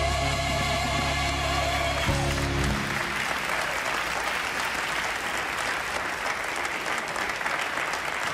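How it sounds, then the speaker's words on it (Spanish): A crowd applauds steadily in farewell to a choir, a dense wash of clapping that continues throughout after a held musical tone fades out at the start. "este fue el aplauso de despedida a un coro"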